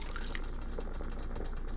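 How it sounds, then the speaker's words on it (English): Water is poured from a cup into a 4-quart pan for Japanese curry, a short steady splashing fill at close range. "We're adding our 2 1/4 cups water right now."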